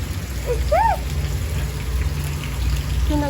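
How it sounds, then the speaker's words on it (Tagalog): Rain falls steadily outdoors as a constant wash of noise, with a chicken or bird giving a couple of short rising calls early on and faint low rumble beneath. "So, nag-ulan diri karon guys."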